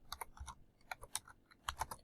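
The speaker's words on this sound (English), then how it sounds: "you'll notice that as I'm typing" Light typing on a computer keyboard while entering a math expression, a quick, irregular cluster of soft key clicks with short pauses between, close and quiet.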